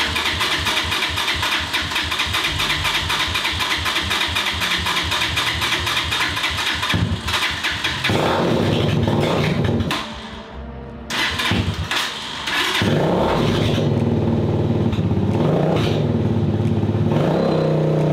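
Small engine on a rebuilt junk quad being turned over on choke, catching and running with repeated revving, loud and close, with a brief dip in sound partway before it roars back up.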